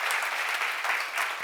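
A church congregation applauds at a Korean revival seminar, steady dense clapping filling the whole stretch at close range with no voices over it.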